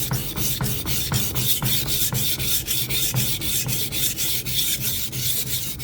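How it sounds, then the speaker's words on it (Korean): A knife is sharpened on a whetstone in quick, even rasping strokes, roughly three or four a second, close and loud and continuing without pause. "밀 때 갈립니다"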